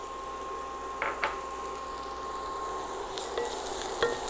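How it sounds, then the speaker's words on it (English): Carrots sizzle steadily in a hot pan during a stir fry, with a few soft scrapes and clinks as they are stirred and no talk. "Saute this."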